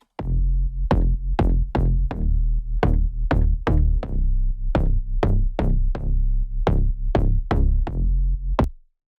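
Future house bass run through sidechain, distortion and compression, pumping in a steady rhythm of short, punchy notes that duck and swell, loud and close, with no voices.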